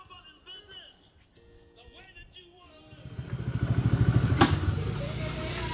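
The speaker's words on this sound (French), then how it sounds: "Je suis en 125 et le scooter il a vraiment du mal." A 125cc scooter engine labours up a steep hill, its drone swelling from a quiet start into a loud, steady strained hum that holds to the end.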